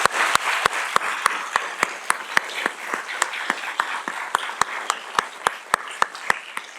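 Audience applause for C.C. Wei, CEO of TSMC, at a Yale Engineering evening speaker event, steady broadband clapping with a few sharp, close individual claps standing out in a regular rhythm.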